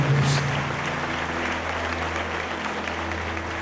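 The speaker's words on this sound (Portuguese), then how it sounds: "Vamos dar uma salva de palmas pela vida de todas essas pessoas." Applause from a congregation at a revival congress church service in Assis, SP, steady clapping throughout with a low hum beneath, a voice briefly audible at the start.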